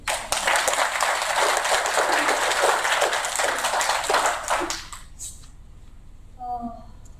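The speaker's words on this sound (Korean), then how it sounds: "환영의 박수." Welcoming applause from the audience at a lecture by the Roh Moo-hyun Foundation chairman, a dense steady round of clapping for about five seconds that stops abruptly, followed by a short voice.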